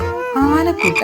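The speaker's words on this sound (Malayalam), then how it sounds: "അപ്പോഴാണ് ദൂരെ തവളച്ചേട്ടന്റെ കരച്ചിൽ കേട്ടത്." A cartoon frog gives a loud, near, stylized croak with a voice-like, pitch-sliding tone, ending in a couple of sharper calls, mixed with a short spoken word.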